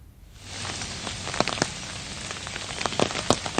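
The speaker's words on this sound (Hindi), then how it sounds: "अभी भी वहां पर बारिश हो रही है" Heavy rain pours steadily in Khargone, a dense, close hiss of water striking surfaces with sharper splashes and drips popping through, loud and continuous with no voices.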